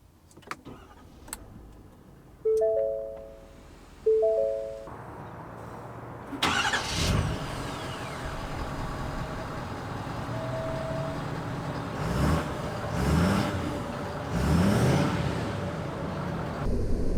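A 2019 Ford F-350 Limited pickup truck: a door thuds, two warning chimes sound, then the engine starts and settles into a steady low drone as it sets off, with a few later swells in engine noise.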